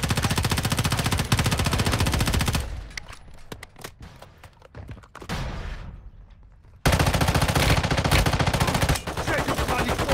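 Rapid automatic gunfire in the mobile shooter game Warzone Mobile, loud dense bursts that pause briefly for scattered single shots and then resume at full intensity.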